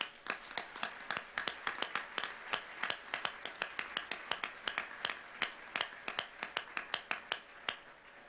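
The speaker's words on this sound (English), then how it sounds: "Give a round of applause, and warm welcome to our panelists." A few audience members clap to welcome panelists at a youth climate discussion, sharp, distinct claps in a steady, evenly spaced rhythm with no voices over them.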